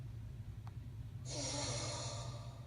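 A short breathy gasp sound effect from the Syrinscape tabletop audio app, a quick airy intake that swells and sustains softly after a faint click, quiet and close.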